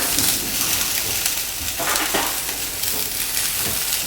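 Loud, steady sizzling of steak searing in a very hot pan, a dense crackling hiss close up with no talking.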